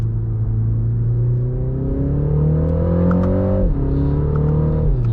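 A 2025 MINI Countryman John Cooper Works engine revs up through the gears, pitch climbing steadily then dropping at a shift before rising again, a smooth, loud cabin drone with no talking.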